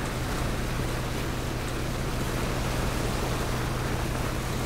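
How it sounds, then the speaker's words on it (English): Speedboat engine droning across open water in PUBG, a steady, even rush of motor and water noise, moderately loud and unbroken throughout, with no talking. "This speedboat is not that much faster than the scary wall, is it?"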